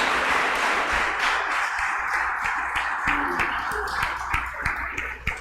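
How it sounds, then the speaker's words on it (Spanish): Audience at the Expo Cibao 2022 event applauds the exhibitors, a close, fairly loud patter of clapping with sharp individual claps that thins out toward the end. "un fuerte aplauso para nuestros"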